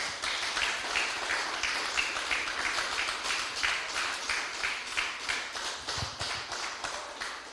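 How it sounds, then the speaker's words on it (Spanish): A church congregation applauds together after a call to praise the Lord, a dense, steady patter of many hands clapping at mid distance, sustained throughout with no voices. "Denle un fuerte aplauso al Señor"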